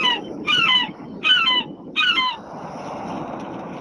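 Birds cawing: three loud harsh caws in a slow, evenly spaced series, close and clear, then fading into a faint noisy background.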